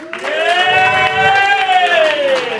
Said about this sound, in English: give me the cheer for Blue Skies and Sun